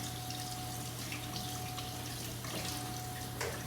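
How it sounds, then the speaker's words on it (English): Hands are washed under a steady stream of tap water in a home kitchen during cooking, a soft continuous rushing with faint splashes. "I'm gonna go ahead and wash my hands again"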